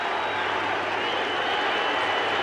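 A baseball stadium crowd in Arlington roars and applauds at a perfect game in the ninth inning, a dense, steady wash of cheering held at an even level throughout.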